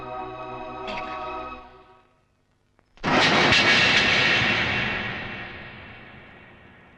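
An airplane takes off, its roar bursting in loud and close after a near-silent gap, then holding as a broad jet rush that slowly fades. A low hum and murmur sit under the opening seconds before the sudden blast.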